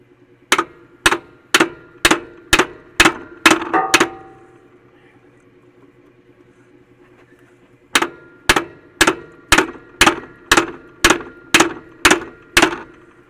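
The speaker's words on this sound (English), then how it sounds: "Now I'm gonna see if I can beat it off of there." A hammer beating on a rust-packed car part, likely a splined fitting on a vehicle's wheel or brake assembly, striking in two rapid, evenly spaced runs of loud metallic blows separated by a few seconds of quiet.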